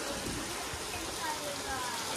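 Rain falls in a faint, even hiss that runs unbroken through the short stretch, with no distinct drops or voices standing out.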